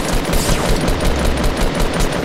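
Pump shotgun fire in the Fortnite video game, a loud, dense rattle of rapid shots filling the short burst, with no talk.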